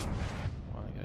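A battleship broadside from the German ship G. Kurfürst in World of Warships, a heavy booming salvo that rolls and rumbles as one deep sustained blast, with a voice talking over it.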